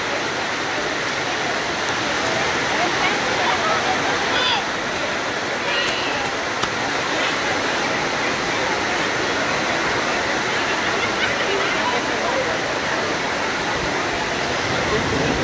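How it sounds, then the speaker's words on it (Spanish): A heavy downpour sends streams of water pouring off a roof in Xochihuehuetlán, Guerrero, producing a dense, steady roaring wash that runs unbroken throughout, with faint higher sounds briefly surfacing above it. "Miren ahí los chorros de agua que están, que vienen del techado."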